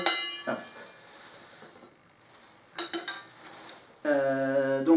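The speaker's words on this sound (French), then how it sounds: "t'achètes une casserole et tu tapes dedans" Saucepan banged as a percussion instrument in a noisy casserolade protest, a few sharp metallic clangs with ringing overtones, separated by quiet gaps, ending in a louder sustained ringing strike.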